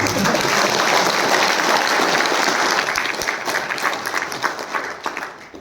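Audience applause at an alkaline water (okflip) product demonstration, loud and dense at first, then thinning into scattered claps toward the end, with little talk over it.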